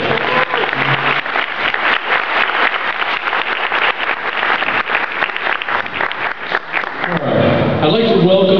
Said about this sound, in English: Let's have a big round of applause for Chris.